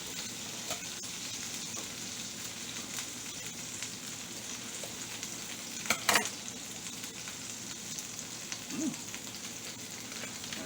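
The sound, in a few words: butter melting and sizzling in a pan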